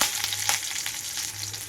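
Mustard seeds, cumin and curry leaves frying in hot oil give a loud, steady sizzle with sharp spitting crackles throughout, heard alone without talk.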